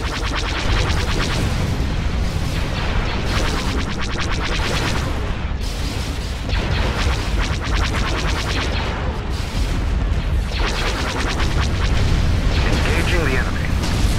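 Starship turbolaser batteries pound away in a Thrawn's Revenge space battle, a dense, continuous barrage of booming blasts and explosions rolling loudly throughout with no letup.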